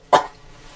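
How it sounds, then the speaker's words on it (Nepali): A single short, sharp cough bursts out once from a speaker at a political gathering, then fades into quiet room tone. "मलाई खोकी लाग्छ"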